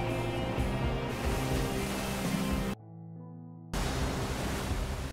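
Big ocean waves crash while surfing: a loud, continuous broadband roar of surf that briefly drops away mid-clip before surging back.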